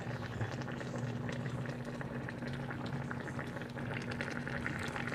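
Paksiw sa gata, fish stewed in coconut milk, simmers steadily in a pot with a continuous bubbling, burbling texture and a low hum underneath, moderately close and without talk.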